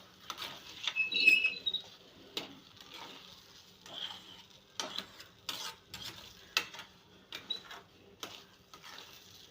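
Semolina sheera with sugar stirred in a pan, a series of scraping, rustling strokes in irregular rhythm, close and fairly clear with no talking.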